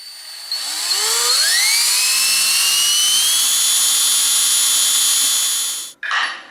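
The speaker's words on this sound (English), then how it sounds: "use a very sharp drill bit to try to very carefully drill down through the middle of the cotter pin" An electric drill bores down through the middle of a steel cotter pin on a vintage Peugeot bike's bottom bracket, a loud sustained whine rising in pitch as it spins up, then holding steady for several seconds before cutting out with a brief clatter.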